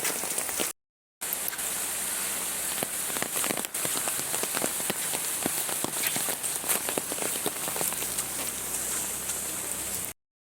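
Steady rain pouring onto surfaces outdoors, a dense even hiss with scattered heavier drops, close and continuous apart from a brief cut near the start.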